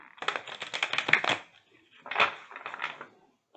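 Vintage cartoon tarot cards, new and somewhat stiff, riffle and flap in two quick bursts of crisp papery clicks separated by a short pause, close and fairly quiet.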